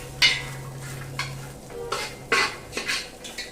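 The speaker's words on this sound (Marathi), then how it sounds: "खोबरं छान परतवून घ्यायचं।" Grated coconut stirred and roasted in oil in a heavy old metal pot, with a spatula scraping and clinking against the pot in irregular strokes over a low sizzle.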